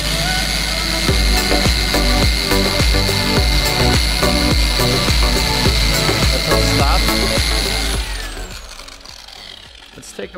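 A power polisher works the surface of an airplane with a loud, continuous grinding motor whine and rapid rattling that cuts out near the end, leaving a quieter room. A voice can be heard under the machine.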